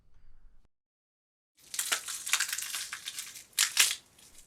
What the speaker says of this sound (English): Foley artists discovered that you can imitate the sound of bones cracking by snapping celery